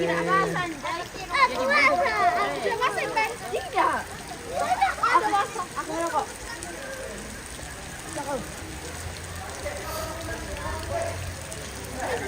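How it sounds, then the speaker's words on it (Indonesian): Heavy rain pours steadily outdoors during a funeral-related gathering in an Indonesian village, a constant wash of drops and splashes heard under lively talk, shouts and children's voices throughout. "tambah deras ini hujan guys"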